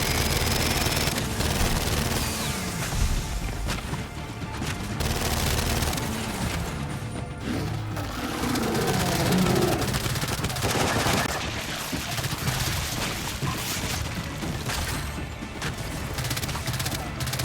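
Sustained automatic gunfire in Gears of War 5, aimed at a carrier, runs almost unbroken through the whole stretch with crashes and impacts in a thick, loud battle mix.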